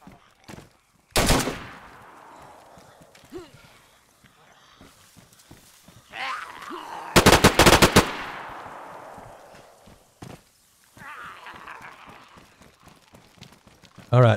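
Gunfire in DayZ near an east harbor: sharp isolated shots and one loud, close cluster of rapid cracks, spread across quieter stretches with a brief voice and movement sounds.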